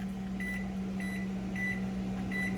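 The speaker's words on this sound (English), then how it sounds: "so our timer just went off" A Power XL microwave air fryer sounds its timer with a series of four short, steady electronic beeps at a regular rhythm over a constant low appliance hum, close by and moderately loud, with no talking.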